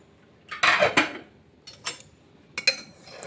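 A pressure cooker lid is opened with a few sharp metallic clanks and scrapes, first a loud cluster and then two lighter knocks, over a quiet room with no talk.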